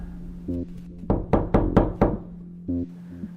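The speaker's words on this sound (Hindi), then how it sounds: "फिर तभी अचानक से कोई मेरे कैबिन का दरवाज़ा खटखटाता है।" Five sharp knocks on a wooden cabin door in quick succession, close and loud, set against a low steady hum with faint musical tones before and after.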